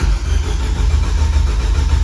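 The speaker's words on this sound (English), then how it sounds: "I'm gonna crank it with the ignition and everything turned off to see if I have RPM signal" A Nissan Juke engine cranking with the ignition turned off, a steady loud rhythmic starter churn with fast regular low pulses that never catch, heard close and alone.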